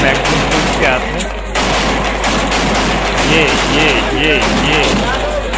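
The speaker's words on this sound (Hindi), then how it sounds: "अच्छा गोलियां हैं दो तीन मैगजीन उसके हाथ में।" Gunfire at a Pakistani wedding, with several magazines emptied: rapid, repeated shots crackle continuously beneath loud music and voices, forming a dense, busy mix with no pauses.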